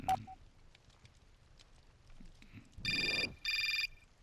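Two bursts of an electronic telephone ring from the video game Syberia Remastered, each lasting about half a second, clear and fairly loud after a quiet stretch.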